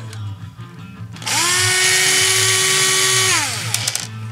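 A power drill removes set screws from the stock front bumper hardware on a Jeep JK, spinning up to a loud, steady whine for about two seconds before winding down.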